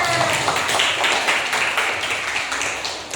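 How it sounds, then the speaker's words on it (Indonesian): Schoolchildren in a classroom clap together in a quick, rapid patter of many hands, fairly close and lively, fading slightly toward the end. "tepuk tangan"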